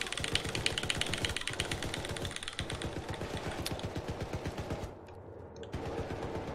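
An automated turret in the video game Syndicate fires continuously, a rapid, dense stream of mechanical shots with a steady driving rhythm, loud and near, briefly thinning before it resumes, with no talking.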